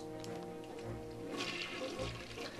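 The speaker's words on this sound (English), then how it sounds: "And he's even kind enough to flush." A character flushes a toilet in The Legend of Zelda: Skyward Sword, a game sound of rushing, gurgling water that swells midway and carries on under a light musical backdrop.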